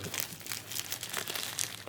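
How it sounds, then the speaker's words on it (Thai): A plastic bag wrapping a Xiaomi USB car charger is opened by hand during unboxing, giving steady close crinkling and crumpling with a few sharper tearing bursts, no talk. "ถุงพลาสติกที่ห่อหุ้ม มีของอยู่ด้านใน เราก็จะมาแกะกัน"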